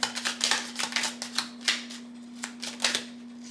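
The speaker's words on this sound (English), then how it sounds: "let's get a couple more cards out here" Tarot cards drawn from a deck and laid out on a table make a run of quick, light papery flicks and soft slaps at an uneven pace, close and fairly quiet, with a steady low electrical hum underneath.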